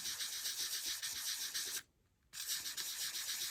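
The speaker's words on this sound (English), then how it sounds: "gently just start sanding it" Steady, close scratchy rubbing of sandpaper by hand on a paint chip on an Impala SS, continuous apart from a brief pause partway through.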